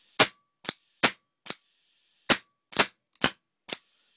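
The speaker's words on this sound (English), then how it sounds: "I can't get enough pressure to shoot the gun properly" An electronic Autococker paintball gun with a severe air leak firing, eight sharp, close pops in an irregular rhythm, each followed by a short hiss, with brief silences between shots.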